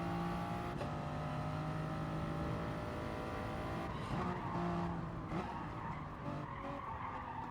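A Group 3 race car in Gran Turismo Sport on a racing circuit, its engine droning steadily with shifting pitch and tire skidding and squealing layered over it, loud and continuous with no talk.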